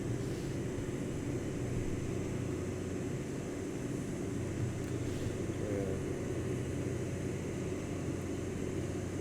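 The steady, unbroken drone of a Cessna 404's engines in cruise flight in X-Plane 11 holds level for the whole stretch with no talk over it.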